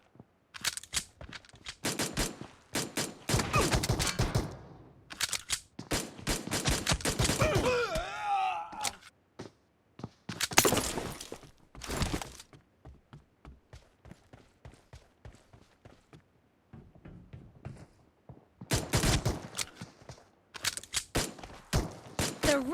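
Pistol gunfire in a video game, with bursts of rapid shots in clusters separated by quiet gaps, loud and close.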